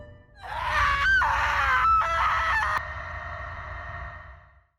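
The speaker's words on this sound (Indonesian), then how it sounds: "tiba-tiba terdengar suara jeritan dan film pun dimulai" A shrill scream from a horror film rises and wavers in several loud bursts, then a sustained tone trails off faintly.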